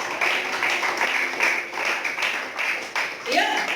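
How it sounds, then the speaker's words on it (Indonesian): A church congregation applauds during a sermon, a dense, steady round of clapping with rhythmic peaks, with a brief voice near the end. "beri tepuk tangan bagi dia"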